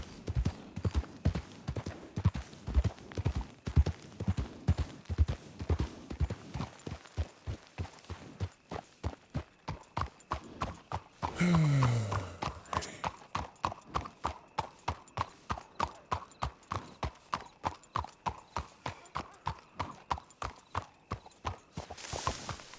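Horse hooves clip-clop in a steady, even rhythm in a Gold Rush roleplay video game, close and clear throughout, with a short whinny-like sound partway through and no talking.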